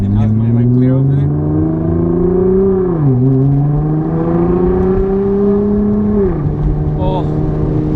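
A 650 hp Nissan GT-R R35 engine climbs through a loud, close rev while driving, dips briefly at a gear change, climbs again, then drops, with occasional voices in the cabin.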